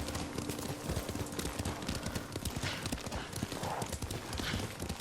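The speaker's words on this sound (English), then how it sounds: "Lord Sakai taught me to ride a horse" Horse hooves clip-clop at a steady riding pace in Ghost of Tsushima, quiet and continuous, with soft background ambience.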